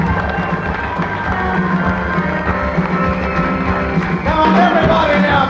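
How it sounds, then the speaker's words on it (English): A crowd at a live 6 o'clock rock show claps and cheers loudly and continuously, a dense roar of applause and shouts that swells near the end. "Everybody now, big round of applause for the living legends!"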